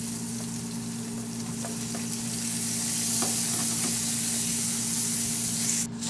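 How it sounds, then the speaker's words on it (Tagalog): Garlic and onion sautéing in a wok-style pan still slick with oil from frying fish, giving a steady close sizzle with a few soft stirring scrapes and taps that grows slightly louder midway. "Igisa ko na yung bawang sa kawali na pinagprituhan ko na ng isda."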